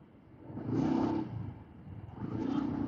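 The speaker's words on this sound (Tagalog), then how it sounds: "Traffic yun." Road traffic on a city street, with two cars passing close by one after another, each rising to a loud engine rumble and then fading, with no talking.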